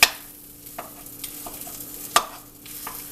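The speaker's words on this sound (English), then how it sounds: "And start chopping it up to increase the surface area" A utensil chopping up food in a hot pan to look like ground beef, several sharp clicks and scrapes spaced irregularly over a low steady sizzle.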